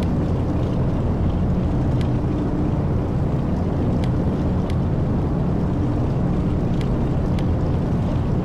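Twin-engine DC-3 airliner in a flight simulator, one engine idling during a magneto check, giving a steady low rumbling drone with faint clicks, constant and moderately loud throughout.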